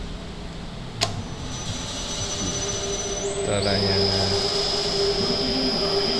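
A milling machine motor driven by an inverter runs with a steady hum and a high whine whose pitch jumps upward partway through, after a sharp click, with someone talking faintly underneath.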